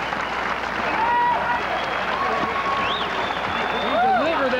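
A crowd applauds and cheers at an amateur boxing bout at the AAU-Sears Junior Olympics in Lincoln, Nebraska, a steady sustained roar of clapping with whistles rising near the end, while a commentator talks over it.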